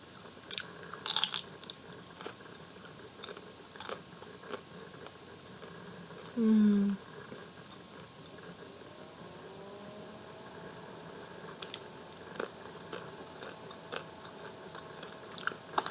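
Crunchy, salty nacho chips from a Taco Bell Grande Nachos Box are chewed close to the mic with sporadic crunching bites over a low background hum, plus a brief hum or voiced sound midway.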